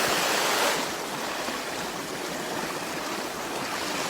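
Waterfall and stream in the woods, a continuous broadband rush of flowing water heard close by, steady and unbroken with a slightly louder swell at the start.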